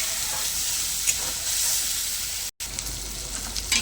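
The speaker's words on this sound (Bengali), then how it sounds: "সামান্য পরিমাণে জল দিয়ে মশলাটা আমি আরেকটু ভালো করে কষিয়ে নেব।" Spice masala for chicken curry fries with a little added water in a pan, giving a loud, continuous hissing sizzle with faint stirring and one brief gap.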